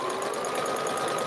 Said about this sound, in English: I'm sewing my last piece together.